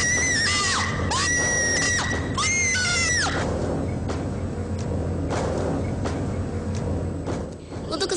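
A woman screams hysterically in a terrified outburst during a paranormal ghost-hunting shoot, with several long shrill wails up front, then loud, chaotic noise and commotion continuing underneath.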